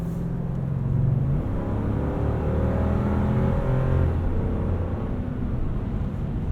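A 2020 Lexus GX 460 in sport mode accelerates with a steady low engine drone and road rumble, heard from inside the cabin. The sound stays continuous and fairly loud, with no speech.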